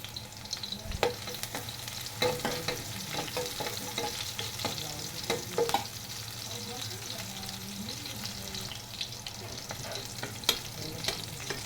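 Garlic and onion sizzle steadily in a pan, with ginger in the mix, and a utensil stirs through them now and then in scattered scrapes and clicks at moderate volume.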